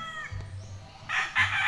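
Backyard fighting cock crowing in the provinces, a short harsh call with some clucking and a low rumble beneath, fairly close and moderately loud.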